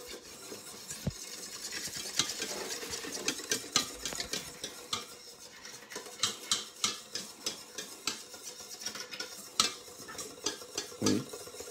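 A flour mixture for blanquette de veau is stirred in a saucepan, a steady run of quiet scraping and clinking utensil taps against the pan, close and without speech.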